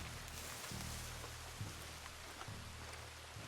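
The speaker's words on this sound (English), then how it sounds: "Sitting in the rain." Steady rain falling in Red Dead Redemption 2, a faint, even hiss of droplets with soft low rumbling underneath, continuous throughout.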